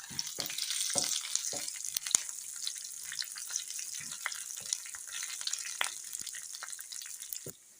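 Curry leaves hit hot oil with ginger and garlic for a mango pickle, a soft, constant sizzle broken by scattered sharp crackles and pops.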